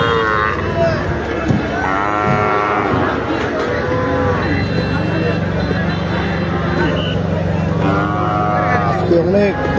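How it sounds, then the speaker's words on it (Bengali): Cattle low repeatedly at a busy cow market, several drawn-out moos rising over a steady crowd murmur and people talking nearby. "এই গরুটা কিন্তু অনেক বড় গরু, দেখেন।"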